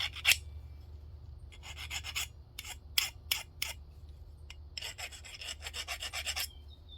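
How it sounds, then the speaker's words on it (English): A metal file rasps across a part being smoothed of burrs while assembling a Kawasaki KE175 motorcycle, heard as close bursts of scraping strokes, some single and some in quick runs, over a low steady background hum. "I'm gonna use my file, and I'm just gonna dress it up"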